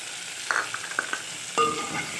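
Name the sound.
tomatoes and spices added to frying onions, sizzling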